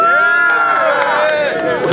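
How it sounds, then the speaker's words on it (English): A large crowd murmurs and cheers at a 2012 Sonoma State homecoming football gameday on Seawolf Field, a loud continuous babble with shouts rising through it and no break. "We got a great crowd out here today."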